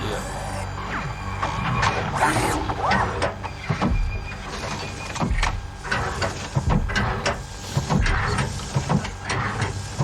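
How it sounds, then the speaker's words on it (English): The ED-209 robot from the RoboCop film makes whirring synth noises layered with mechanical clanks and servo bursts, busy and dense, rising and falling in short surges. "There's this whirring, this synth noise, it's amazing."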